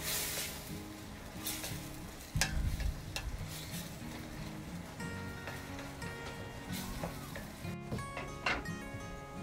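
Chicken adobo sizzles in a pan while it is stirred, giving a steady frying hiss broken by scraping and clinking strokes, with a few brief bright clanks near the end.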